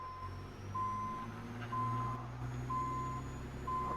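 Reversing beeps from a truck backing a trailer carrying a Cat 980K wheel loader in American Truck Simulator, a steady repeating beep pattern over a low, continuous diesel engine drone.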